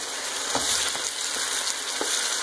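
Mushrooms and bell pepper sauté in a hot pan, giving a close, steady sizzle with a few soft stirring knocks and scrapes, no voices.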